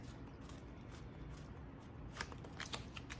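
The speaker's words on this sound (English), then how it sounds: "So what I'm going to do now is cut the deck at the Queen." Tarot card deck riffled and cut by hand, a steady papery shuffling texture running continuously with a few sharper card snaps near the end, close and fairly quiet.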